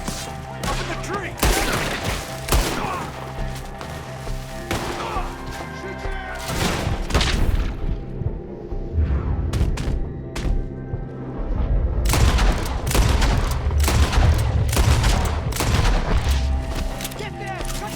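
Shootout in the Western game Red Dead Redemption 2, with repeated sharp gunshots and heavier booming blasts scattered through, under a low rumbling background and shouted voices.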